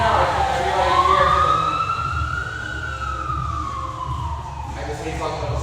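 An emergency vehicle siren wails outside, a single long rising and falling sweep passing at a distance, moderately loud over a low rumble of traffic and room noise.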